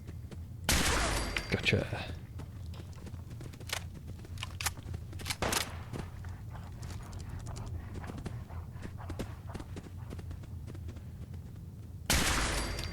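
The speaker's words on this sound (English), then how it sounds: "Big gun. Big gun is also silenced." Muffled, suppressed gunfire from a silenced big gun in Fallout 4, heard as a few sharp bursts spread across the clip, the loudest near the start and end, under steady game background with a voice speaking briefly.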